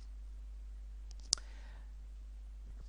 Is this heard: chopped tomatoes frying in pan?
no